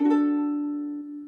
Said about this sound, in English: so we're going to strum the whole ukulele for this chord.